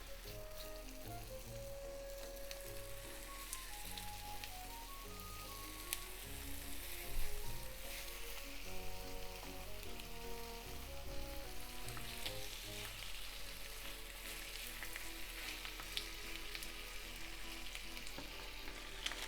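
Chicken pieces fry skin side down in a tablespoon of vegetable oil in a frying pan, giving a steady, dense sizzle and crackle that continues unbroken, with no voices over it.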